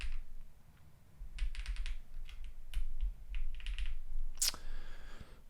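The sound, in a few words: typing on a custom mechanical keyboard with foam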